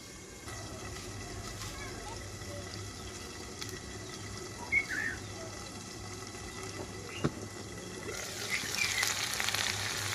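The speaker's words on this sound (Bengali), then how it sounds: "এখন ঢাকনা দিয়ে ঢেকে মাংসটাকে হচ্ছে কষিয়ে নেব বা চিকেনটাকে কষিয়ে নেব।" Village-style chicken curry pieces sear under a lid in a pan, a constant close sizzle with occasional pops and a hiss that swells near the end, while a voice talks over it.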